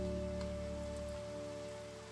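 Rain in the video game NICHE, a soft steady patter heard faintly under a constant humming game ambience with a low tonal drone throughout.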